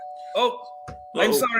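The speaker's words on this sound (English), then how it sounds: "That was the doorbell." A doorbell chimes with a steady, sustained tone held under speech, while voices talk over it briefly in an indoor setting.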